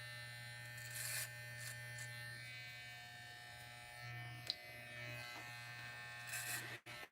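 An electric razor buzzes steadily while shaving a head, a low continuous hum with brief shifts in pitch and a few clicks as the clippers move, recorded close and fairly quiet.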